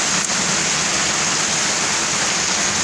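Heavy rain pouring down steadily, a dense, loud, continuous wash of water with no break.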